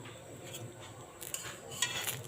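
A metal spatula clinks a few times against a hot pan while cooking methi paratha, light scattered taps over quiet kitchen background, no talk.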